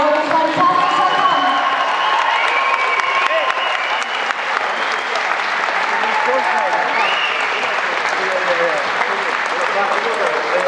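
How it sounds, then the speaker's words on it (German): Audience applause for fighters after a bout at a combat sports event, a continuous loud wash of clapping with cheering and whoops, steady throughout with an announcer's voice faintly above the crowd. "Ein Applaus für die Kämpfer."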